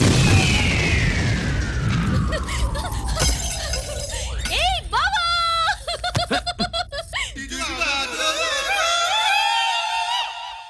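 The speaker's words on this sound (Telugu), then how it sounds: "ఫోర్నాలు బాంబుల్లా ఫేలిపోయినాయి ఏంటి?" Firecrackers burst like bombs in a Telugu action film scene: a falling whistle leads into loud cracks, shattering and rapid pops, followed by ringing, warbling effects.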